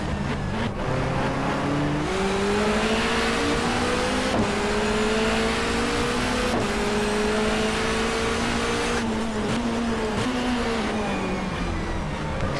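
A 1994 Asia-Pacific touring car in the GTR2 racing game: a continuous loud engine howl with pitch climbing through gears and dropping sharply on downshifts, steady and close with no voices.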